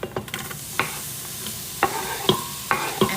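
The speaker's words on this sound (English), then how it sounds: "Y'all gonna hear it sizzle in just a second." Onions sizzle steadily in a hot Instant Pot, with sharp clinks and scrapes of a utensil stirring at irregular intervals.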